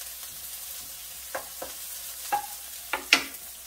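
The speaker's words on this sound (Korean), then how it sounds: "파와 마늘을 먼저 볶아주고" Green onion and garlic stir-fried in a pan, a soft continuous sizzle broken by a few sharp scraping strokes of a utensil toward the end, close and fairly quiet.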